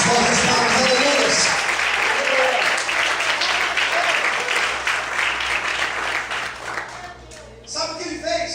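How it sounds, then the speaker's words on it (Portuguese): A church congregation bursts into loud, dense applause that holds steady, then thins and fades out near the end. "Você pode aplaudir e exaltar o Senhor em voz nessa noite."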